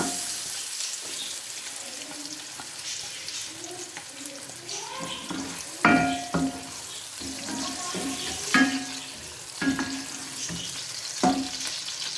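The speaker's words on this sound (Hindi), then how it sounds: "अब हम इसमें प्याज डालकर फ्राई करेंगे" Onions frying in hot cooking oil in a pan for pakora kadhi, a quiet continuous sizzle broken by several distinct scraping and clattering stirs, with a faint murmur of a voice in the background.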